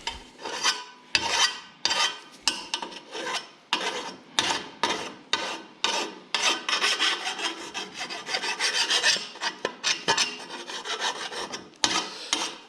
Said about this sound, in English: Old-fashioned router burr